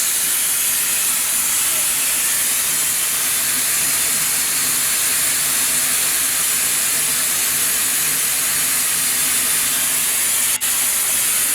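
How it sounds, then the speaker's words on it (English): A Baldwin steam locomotive vents steam in a steady, loud broadband hiss that fills the whole stretch, with a faint low rumble underneath and one brief click near the end. "So it's a Baldwin locomotive."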